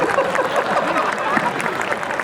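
Applause from an audience at a Hindi comedy poetry gathering in Rajnandgaon, a dense, steady wash of clapping lasting the full stretch with no talk over it.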